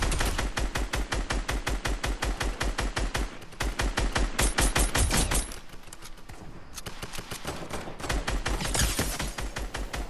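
Sustained rapid automatic gunfire from a shooter video game, rattling in long, loud bursts with a brief lull in the middle before the fast shots resume.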